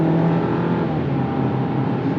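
A steady engine drone with a rising hum as a 2024 Jeep Compass with a small turbocharged engine accelerates, heard from inside the cabin, with no talking.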